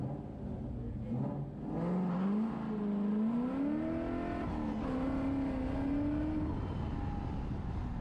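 Car launching hard in first gear at about 2200 RPM, the engine note climbing steadily as it pulls away, loud and close throughout with no talking.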